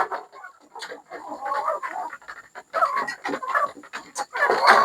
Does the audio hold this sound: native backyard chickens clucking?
yes